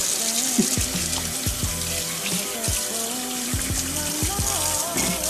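Tap water runs steadily into a sink while hands rub and splash beneath it, a continuous rushing sound with small irregular knocks.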